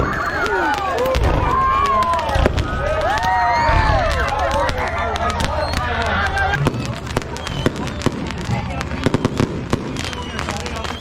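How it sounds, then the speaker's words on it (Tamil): Rapid crackling bursts of firecrackers popping irregularly during a Diwali night celebration, some near and loud, with whistling rockets and a crowd murmuring in the background. "எல்லாருமே பட்டாசு வந்து வெடிச்சிட்டு இருக்காங்க"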